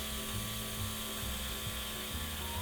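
A handheld spray makeup device atomizes thin liquid foundation in a steady, continuous mechanical whir with an airy hiss, holding level throughout at close range, without any talking.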